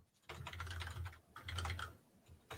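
Quick keystrokes on a computer keyboard while rebooting a system, in rapid bursts separated by brief pauses, close and fairly quiet.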